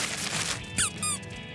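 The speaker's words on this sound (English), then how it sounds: "It's a squeaky toy." A squeaky toy, a birthday present, gives a couple of short, bright squeaks, the second a quick double squeeze, over faint background music.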